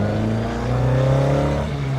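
A 1960 Lotus Elite sports car drives by with a loud, steady engine drone and strong low harmonics that hold across the whole stretch, with no clear rise or fade of a pass.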